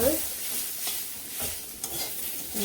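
A pan of food being stirred while it fries, giving a steady soft sizzle with a few scraping strokes spread across a short stretch, close and fairly quiet.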